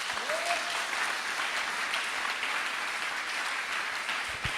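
Congregation applauding inside a church during a worship service, a steady dense wash of many hands clapping throughout, fairly loud and continuous with a brief voice near the start.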